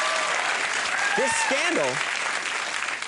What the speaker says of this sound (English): Those are powerful claps tonight from the crowd.